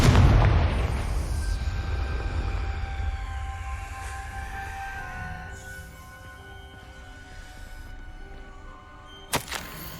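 A Confringo fire spell blasts in Hogwarts Legacy, opening with a loud booming burst that rolls into a long, fading rumble with lingering ringing tones, then a sharp crack near the end.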